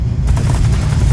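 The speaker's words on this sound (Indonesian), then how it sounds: "Moron's just spraying bullets." A rapid burst of loud gunfire in a sniper video game, heavy booming shots rattling in quick succession close by.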